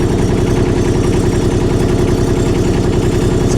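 A cold diesel engine that has not run in a while idles loudly just after starting, a deep, steady rumble with a regular pulsing throb, close and continuous throughout.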